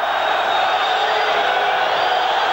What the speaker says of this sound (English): So now this crowd comes to life